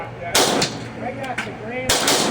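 Gen 5 Glock 26 pistol fires two loud, close, sharp shots about a second and a half apart, each with a short ringing echo, plus a faint click in between.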